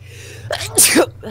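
A single sharp human sneeze, close and loud, preceded by a quick inhaled catch of breath, heard during a news broadcast.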